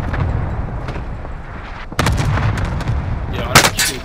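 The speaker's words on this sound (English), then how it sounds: "Cluster strike away." Cluster strike artillery explosions in Call of Duty on Rebirth Island, a loud rumbling barrage of booms with sharp blasts at about two seconds and a heavier burst near the end, continuous and dense.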